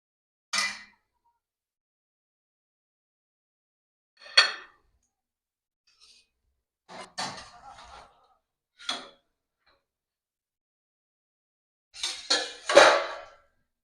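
A plate and a tiffin box lid set down over a pot on the stove, heard as a handful of sharp, isolated metallic clinks and clatters spaced apart, close by, with near silence between them.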